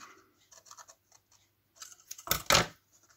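Scissors snip through fabric on an angle while a bag is sewn from a pattern template, giving a few quiet, crisp cuts and rustling that end in two louder close snips near the end.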